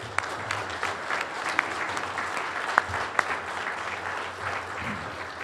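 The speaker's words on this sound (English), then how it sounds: "Please give all these past leaders of SBE a great round of applause" Guests at an awards dinner applaud past leaders of the SBE, a moderately distant, steady round of clapping with a few sharper individual claps standing out.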